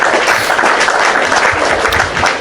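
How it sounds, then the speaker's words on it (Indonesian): An audience applauds during a Christian religious talk, steady loud clapping filling the room continuously from start to end. "Tepuk tangan bunda"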